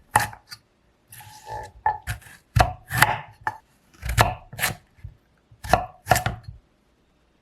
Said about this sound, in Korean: 당근 2개는 굵게 잘라줄게요